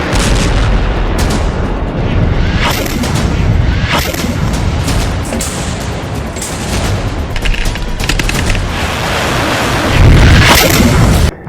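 Dense, loud barrage of booming blasts and crackling gunfire from Israeli army strikes in Gaza, rolling continuously with overlapping impacts and a heavier boom near the end, no speech.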